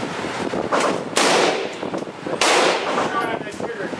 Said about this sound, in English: Hit the trigger real hard. Here, hold it down for about 25 rounds.